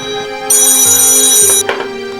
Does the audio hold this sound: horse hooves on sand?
no